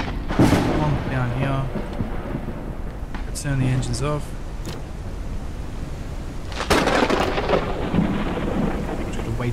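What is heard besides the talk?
thunderstorm with rain in video game Forever Skies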